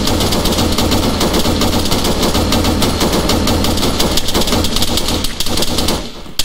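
Sustained automatic rifle fire in a military milsim game at a quarry compound, dense rapid bursts running loud and continuous before cutting off near the end.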